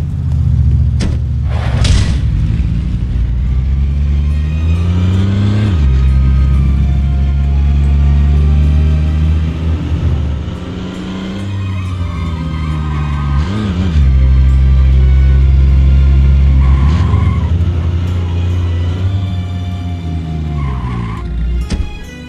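A stolen car driven hard in The Godfather game running on PCSX2, with a loud steady engine drone, rising and falling revs and repeated tire squeals and skids, close and continuous throughout.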